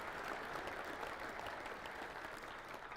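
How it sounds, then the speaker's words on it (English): Conference attendees give sponsors a round of applause at a security convention's closing session, producing dense, continuous clapping from a sizable crowd, heard from a distance and fairly quiet. "Give them a round of applause."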